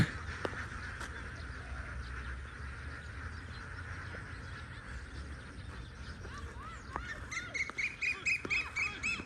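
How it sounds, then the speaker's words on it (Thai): Large flock of ducks being moved on foot by a farmer without a cage truck, a dense chorus of quacking that swells into louder rapid bursts near the end, with steady outdoor background noise. "กองทัพเป็ดนะครับกำลังจะเดินนะครับ"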